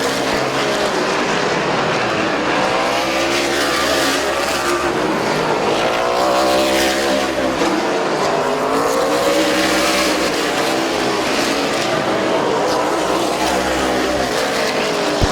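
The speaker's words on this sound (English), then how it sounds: "Alex Rosenberry, Nick Grodi, nose to tail for the race lead." Race cars at Midvale Speedway roar past nose to tail, engines rising and falling in overlapping sweeping passes, loud and continuous with a sustained dense engine drone throughout.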